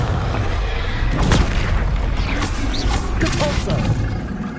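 A Confringo blasting spell from Hogwarts Legacy explodes in loud booms during a magic duel, with a burst of rumbling impact and a trailing roar. A voice is heard over the blasts.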